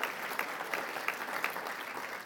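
Audience applause at Chauncey Billups' Hall of Fame induction speech, a steady patter of many hands clapping at moderate distance, with no speech over it.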